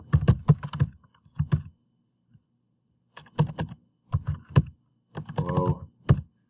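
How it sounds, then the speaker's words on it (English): Keys clatter on a computer keyboard in several short bursts of quick typing, with brief pauses between them, close and fairly quiet in an indoor room. "And type in today's date."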